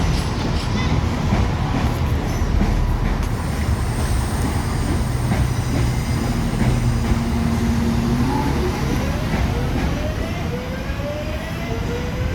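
Class 323 electric train pulling out of Birmingham New Street, a steady close rumble and roar with rising motor whine and faint clickety-clack as it departs; no talking.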